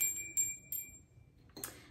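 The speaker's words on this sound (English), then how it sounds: "So ring for wine, like a hotel bell, a bit retro." A novelty hotel-style desk bell used as a ring-for-wine bell, struck several times in a row, each a bright, clear ding with a tonal ring that fades. It plays alone, fairly close.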